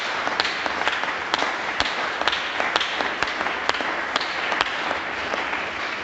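Worshippers at a Sunday church service keep clapping for Jesus, a sustained crowd applause punctuated by scattered close, crisp individual claps.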